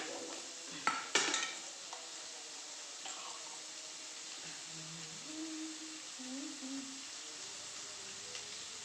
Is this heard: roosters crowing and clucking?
no